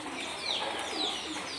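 Farm pigeons cooing softly while they feed, with a couple of faint coos rising over a quiet background in a short, close recording.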